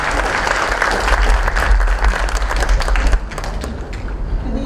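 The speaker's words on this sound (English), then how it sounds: "A round of applause." A crowd applauds loudly and steadily at a school appreciation award and dinner ceremony, dense clapping filling the room before easing slightly toward the end.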